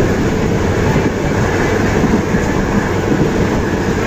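An ordinary-class passenger train, number 255 bound for Prachuap Khiri Khan in Thailand, rumbles steadily along the rails, heard loud and close from inside a crowded carriage with no talking.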